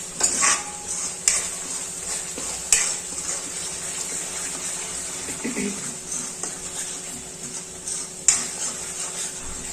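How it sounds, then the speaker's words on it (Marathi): Chunks of suran, elephant foot yam, being sautéed in oil for a Maharashtrian bhaji, a soft continuous sizzle with several sharp scraping stirs and pan knocks, close and steady without speech. "याला चांगला परतून घ्यायचा तेल सुटेपर्यंत."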